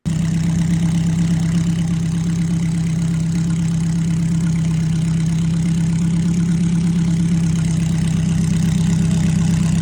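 A Ferrari sports car engine idles loudly and steadily, a deep, even rumble with a fast pulsing beat that holds unchanged throughout, with no voices over it.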